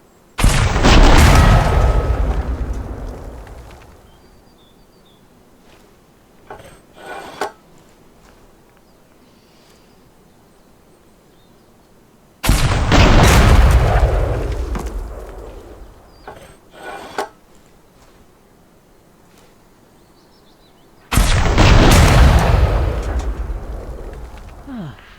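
Rockets fired in Gunsmith Simulator burst out in three loud, roaring blasts, each followed by a long fading rumble, with quieter clatter and small pops between them.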